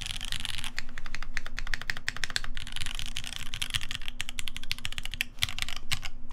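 Rapid, steady typing on a modded Keycult No.1 mechanical keyboard, dense clacking keystrokes close to the microphone with brief pauses, no voices.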